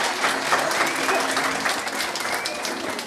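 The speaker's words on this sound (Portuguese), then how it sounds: "Pedimos uma salva de palmas para estes cantores." An audience gives a round of applause for singers at a Portuguese show, steady crowd clapping sustained throughout with a murmur of voices underneath.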